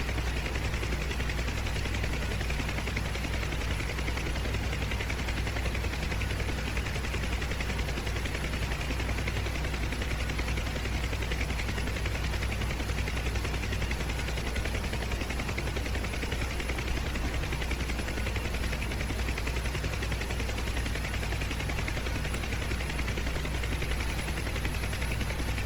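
An Mi-8 helicopter in the flight simulator DCS World makes a dense, steady rotor and turbine roar with a deep low throb that fills the whole stretch without letup or voices.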